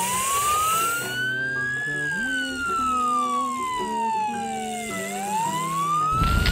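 A red toy fire truck's electronic siren wails in long rising and falling sweeps, loud and steady, with a tinny melodic tone layered underneath and a brief rustle at the end.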